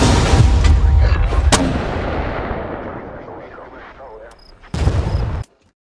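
Mortar and artillery fire roll through Hell Let Loose Vietnam: heavy booming blasts, a sharp crack partway in, a long rumbling fade, then another loud burst near the end before it cuts off.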